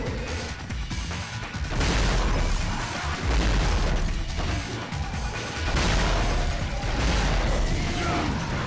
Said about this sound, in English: Go on the grenade gun as well.